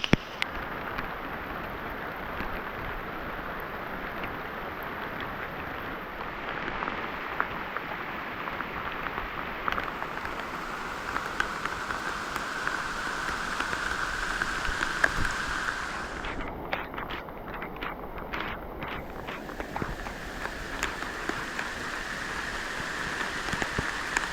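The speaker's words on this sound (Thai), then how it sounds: "แบบฝนตกติดๆเลย" Steady rain falls in a rural village setting, a continuous even hiss of drops with gusts of wind noise on the microphone, no voices.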